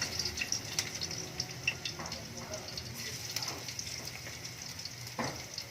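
Garlic hits hot, smoking cooking oil in a pan while making lumpia from coconut heart, giving a steady close sizzle with occasional clinks, and a person speaks over it.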